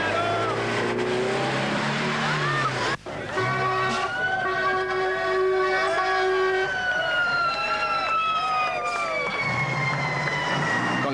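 Dakar rally trucks roar past a cheering crowd at a prologue stage in Cergy, engines droning loud and continuous with rising and falling whines, a sharp break partway through, and voices mixed under the noise.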